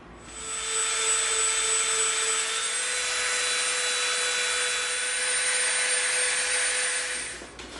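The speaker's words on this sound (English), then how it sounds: "we're gonna clean this up with the Dremel." A steady high-pitched Dremel rotary tool whine sanding EVA foam, loud and continuous for several seconds before cutting off.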